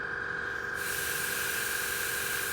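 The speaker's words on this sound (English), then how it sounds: "push down for air and pull back the trigger, and you have a nice steady flow" Steady airy hiss of a Harder & Steenbeck Ultra airbrush spraying paint continuously, starting softer and growing brighter after a moment, close by with no voices.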